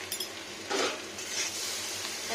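Chilli powder frying in an iron wok while cooking butter green jackfruit, with soft sizzling, stirring scrapes and a few light clinks of utensil against the pan, fairly quiet and close.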